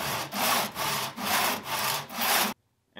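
A hand saw cuts wood in a miter box, with five rhythmic, close rasping strokes and short gaps between them, ending abruptly in silence.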